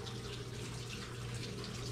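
Steady running water from a water display in a museum exhibit on Native American life in Coloma, California, a continuous close splashing flow without pause or voices.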